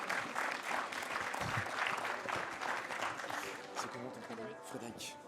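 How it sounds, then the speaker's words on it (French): Audience applause fills a conference hall at a CityLab 2016 project presentation, steady dense clapping for about five seconds that tapers slightly toward the end, with a few voices mixed in. "qu'on peut applaudir bien sûr"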